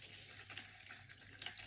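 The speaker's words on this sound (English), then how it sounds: "First things first then, we're going to add some water." Water pours steadily into a shallow tortoise bath, a soft, continuous splashing trickle heard close up and fairly quiet, with no talk.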